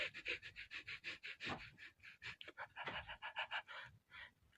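A dog pants rapidly and sniffs up close. Quick rhythmic breaths run steadily throughout, with a few sharper sniffs breaking the pattern.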